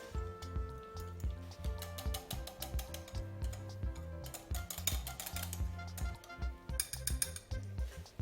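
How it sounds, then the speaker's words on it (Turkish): A whisk beats flour and yogurt together in a bowl for a soup dressing, giving a quick, steady rattling and clinking that repeats for several seconds at close range, with no talking. "Sadece unumuzla yoğurdumuz var. Bunları da şöyle güzelce bir çırpalım."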